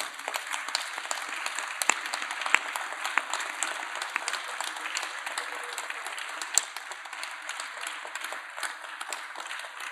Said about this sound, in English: they ask you to applaud Anastasia for her life,